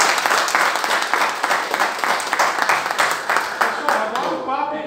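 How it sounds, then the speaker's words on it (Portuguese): A round of applause from the crowd at a Portuguese-language corporate-to-entrepreneurship talk in April 2023, steady dense clapping filling the room, a voice emerging as it thins out near the end. "E eu só queria encerrar com um grande salve de palmas para todos nós que estamos aqui."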